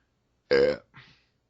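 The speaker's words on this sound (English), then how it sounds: "Sorry, I burped." A single loud, close burp with a deep rumbling tone, followed by a softer, breathy trailing sound, then silence.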